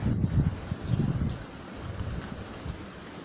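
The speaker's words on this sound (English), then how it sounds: "It's starting to rain on me." Rain beginning to fall outdoors during a VW Passat timing gear and crankshaft repair, a soft steady patter with a low rumble, moderately faint, with no talking.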